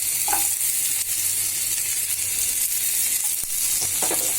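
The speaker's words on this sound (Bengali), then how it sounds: "তেল আর দেওয়া লাগবে না, মাছ ভাজা তেলেই এটা ভাজা হয়ে যাবে।" Green chillies and onion fry in leftover oil from frying rui fish, giving a steady, close, even sizzle with faint stirring scrapes and no talking.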